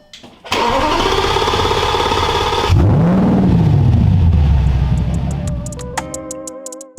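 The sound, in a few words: Ford F150 FX4 truck engine starting, exhaust through muffler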